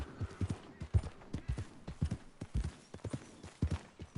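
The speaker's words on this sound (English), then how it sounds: "Honestly, I'm terrible for looking after my horse." Horse hooves clip-clop at a steady walking rhythm in Red Dead Redemption 2, close and clear, with a faint whinny possible and no talk over them.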